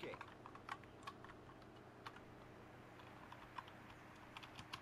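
Quick irregular taps of typing on a computer keyboard during a retro football game session, soft and close, clicking steadily throughout.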